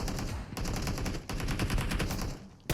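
Sustained automatic gunfire from the BGMI battle royale game rattles in rapid, steady bursts, loud and close, with a brief pause before the shooting resumes, no talking over it.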